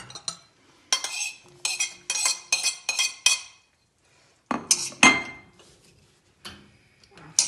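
Onion goes into a pot and is stirred for German-style beshbarmak; bursts of metallic scraping and clinking come in quick succession, pause, then resume more sparsely, close and fairly loud.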